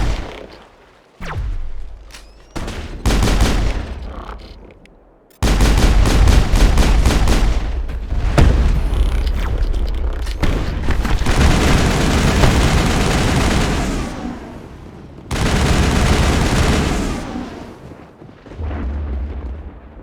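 Heavy crossfire in Mass Effect, with loud sustained bursts of gunfire and booming impacts, several separate volleys broken by short pauses, close and intense.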